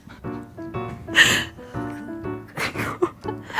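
Near and loud, a voice imitates a friend's unusual sneeze with pitched vocal sounds broken by two breathy, sneeze-like bursts at about one second and again near the end.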